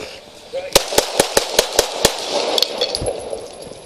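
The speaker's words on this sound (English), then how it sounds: "shots fired" A rapid series of about seven sharp, loud gunshots from a police officer's handgun during an officer-involved shooting in Escondido, evenly spaced over a second and a half, followed by shouting and ringing echoes.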